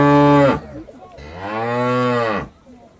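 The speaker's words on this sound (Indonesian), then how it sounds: "Ini ada sapi teman-teman." Toy cow lowing in two long moos, the first short and the second drawn out and loud, close and without talk.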